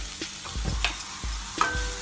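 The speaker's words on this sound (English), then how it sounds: "I will stir it" Vegetables with salt frying in a pan for Schezwan fried rice and being stirred, a steady close sizzle broken by scraping and tapping strokes of the spoon.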